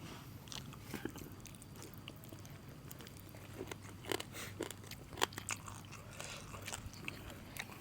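Bones being chewed and crunched during a meal, with close, quiet, irregular bites and cracks scattered over a low background hum.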